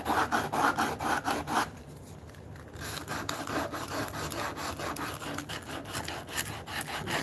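Sandpaper or a rasp rubs back and forth over the bevel of a wooden mallet, rounding it over in steady repeated strokes, with a short pause partway through before the rubbing resumes, close and fairly loud.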